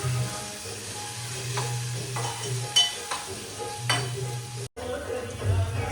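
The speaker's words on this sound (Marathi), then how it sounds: "कढीपत्ता कढीपत्ता टाकलेला आहे" Onions, chillies and curry leaves fry in a pan, making a quiet, steady sizzle broken by spatula scrapes and taps at irregular intervals over a low hum.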